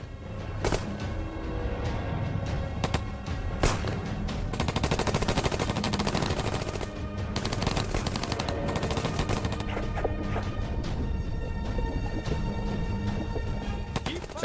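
Gunfire in a war documentary about troops shooting prisoners of war, heard as loud, continuous rattling bursts of automatic fire and shots over a dense, noisy battle din.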